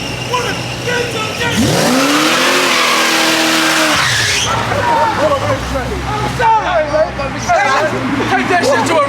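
A Chevelle muscle car in a street race roars as it accelerates hard, with a rising engine note and tire noise, while a loud crowd shouts and chatters throughout.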